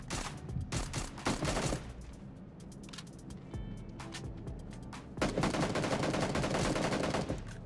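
Rapid bursts of gunfire from a mobile battle-royale shooter, repeated volleys that stop and restart, loud and close with a dense clatter of shots and a brief lull in the middle.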